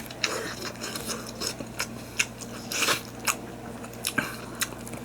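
Korean sundae, a glutinous-rice style blood sausage, bitten and chewed close up, with a string of soft crunchy bites and squishy chewing over about five seconds and no talking.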